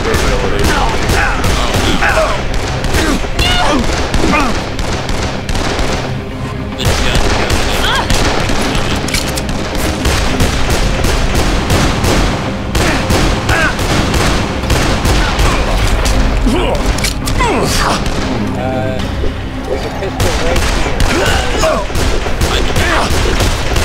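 Rapid gunfire in the Dead Island video game, dense bursts of automatic shots and booms rattling almost continuously for the whole stretch, loud and close, with occasional brief lulls.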